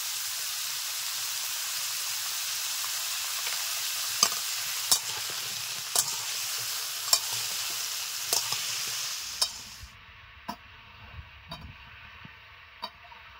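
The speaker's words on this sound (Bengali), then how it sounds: "তিন চার মিনিট এরকম ভাবে নেড়ে নেব।" Pumpkin pieces seasoned with salt and turmeric sizzle steadily in a pan over medium heat, with a spoon scraping and knocking at intervals; the frying hiss drops off sharply near the end, leaving only sparse stirring clicks.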